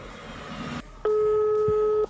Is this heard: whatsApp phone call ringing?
yes